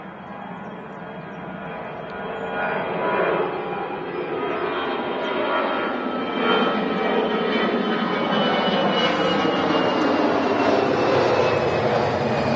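An Aer Lingus airliner taking off at Manchester Airport builds into a loud, sustained jet roar that swells and holds for several seconds, heard alone without talk.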